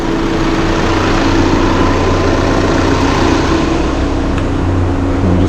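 A Skoda car engine runs with the throttle applied while the exhaust heats up, a loud, steady low engine drone with a sustained hum throughout and no voices.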